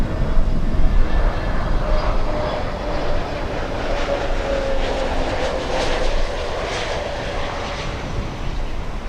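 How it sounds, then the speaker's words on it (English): An American Airlines A321 airliner on final approach roars steadily and loudly overhead, a broad engine rush with a faint whine, holding nearly constant for the whole stretch before easing slightly toward the end. "the American Airlines A321 on final"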